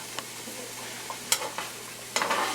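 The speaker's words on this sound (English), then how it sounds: "these onions, you can just saute them till they get translucent." Onions sauté in a skillet ahead of a sausage and beef lasagna, a quiet sizzle broken by a few sharp scrapes and stirring clatters from the pan.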